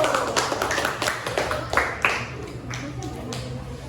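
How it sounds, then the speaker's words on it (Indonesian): Schoolchildren in a classroom clap their hands in a short burst of distinct, uneven claps that fade toward the end, with a teacher's voice and some chatter mixed in. "Ya, tepuk tangan dulu."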